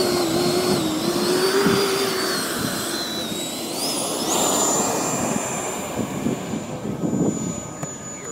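A Skysword model jet aircraft taxis and takes off, its high whining engine rising steadily in pitch as it speeds up, loud and close before pulling away into the distance.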